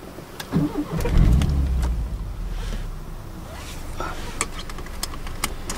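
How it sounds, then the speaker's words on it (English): A car engine cranks and starts beside a head-mounted camera at a hilltop spot called Bum Rock, a loud low rumble surging in, then settling into a steady idle with a faint voice over it. "We have engine start"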